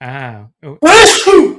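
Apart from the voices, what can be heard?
sneeze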